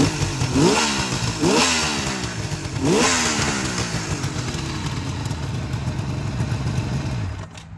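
A 1973 Suzuki GT550 motorcycle is kickstarted, and its engine catches with a few sharp revving bursts. It then settles into a loud, steady two-stroke idle nearby before cutting out at the end.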